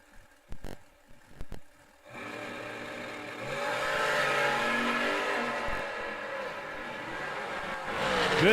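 Two drag race cars launch side by side at an outlaw drag racing event at Bowling Green, a loud sustained engine roar building after a couple of brief bangs, then holding steady and rising again near the end, with no talk.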